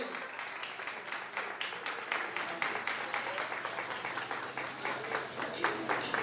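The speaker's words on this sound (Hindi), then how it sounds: "जोरदार तालियां बेटे हैंसल के लिए" Steady crowd applause for a small boy at a children's prize distribution on Resurrection Day, dense continuous clapping from a gathered congregation with faint voices underneath.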